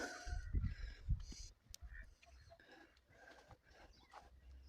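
Indian Runner ducks in a village farmyard, faint scattered quacks and honking calls in short bursts amid low rumbling handling noise and other farm sounds.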